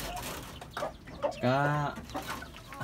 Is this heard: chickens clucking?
yes